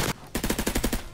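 Suppressed MAC-10 fire in the Roblox Criminality game: a short, rapid automatic burst of about eight muffled, evenly spaced shots after a brief opening report, loud and close.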